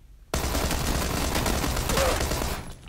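Gunfire in PUBG: a sudden loud burst of rapid automatic shots that starts sharply after a brief quiet moment, holds steady, then fades out near the end.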